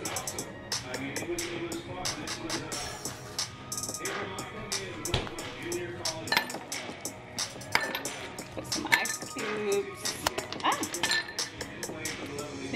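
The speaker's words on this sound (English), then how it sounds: "My cute little perfect squared ice cube. I use this silicone ice tray." Small square ice cubes being popped out of a silicone ice tray, making a continuous run of bright clinks and clatters, close by, with occasional brief voices.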